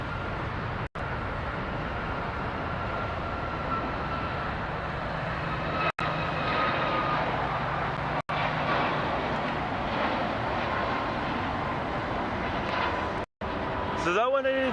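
An Airbus A320 airliner at LAX airport gives off a broad, steady jet roar at a distance, heard under ongoing talk for the whole stretch.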